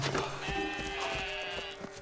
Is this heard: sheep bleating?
yes